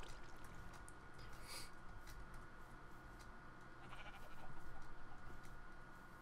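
Sheep bleating in the BAOSS farming video game, with several overlapping bleats over a steady background hum, fairly soft and continuous with no talking.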